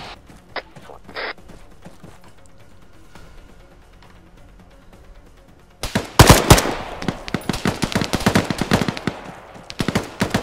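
Close, loud machine gun fire in the shooter game ArmA 3 erupts after a quiet stretch, rapid bursts and single cracks stacking densely over the final seconds.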